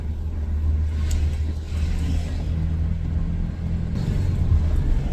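Saturday morning shopping traffic rolls past as a steady low rumble of car engines, with a few slightly louder vehicle swells and no voices.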